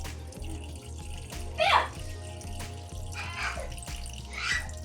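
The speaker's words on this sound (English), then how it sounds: "Okay, we drain the water on the top." Water slowly poured off settled potato starch in a kitchen bowl, a soft trickle and splashing with a few brighter gurgling bursts over a steady low background hum.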